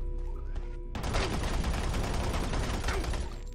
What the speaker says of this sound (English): The slappy boys! They have chain guns now!